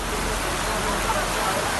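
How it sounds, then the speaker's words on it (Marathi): Heavy monsoon rain pouring down in Marathwada during flooding, a loud, unbroken hiss that holds steady without gaps. "जिल्ह्यात मध्यरात्रीपासून मुसळधार पाऊस कोसळतोय।"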